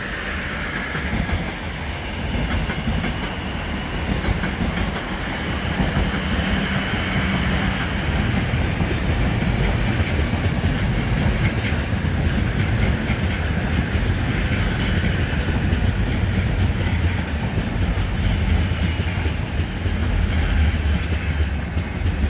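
A five-carriage passenger train at Clapham Junction station, a steady loud rumble of wheels on rails with a faint clickety-clack and occasional squeal, sustained throughout without voices.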